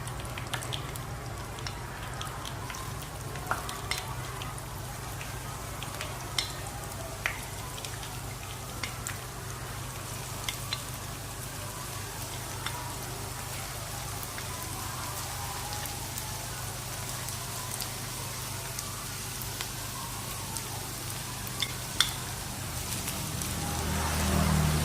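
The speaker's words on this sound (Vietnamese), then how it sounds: "Bây giờ mình sẽ cho lên bếp chiên nhé" Fish balls deep-frying in a pan of oil, a steady close crackle and sizzle with scattered pops running throughout, alone without talk.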